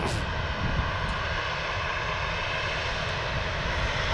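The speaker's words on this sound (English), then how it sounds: "Ryanair just vacating in front of us" A Ryanair jet airliner vacates the runway at Manchester Airport, giving off a steady, fairly loud engine whine and rumble that holds constant throughout, close by.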